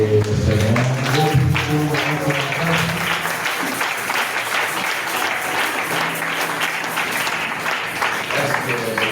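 A church congregation bursts into sustained, loud applause to acclaim the Lord during a worship service. The dense clapping fills the whole stretch, with a voice and tonal sounds audible at the start.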